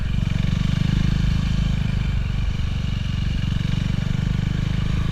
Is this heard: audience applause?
no